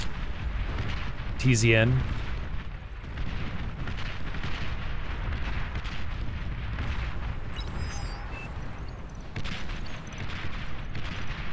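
Artillery fire in the real-time strategy game Beyond All Reason during a 3v3 tournament match, heard as a dense, continuous rumble of booms and blasts under brief commentator speech.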